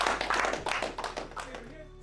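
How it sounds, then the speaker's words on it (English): A high school basketball team, state champions, clapping their hands together in a brisk burst of close, overlapping claps that fades out near the end, with voices mixed in. "let's clap it up for that"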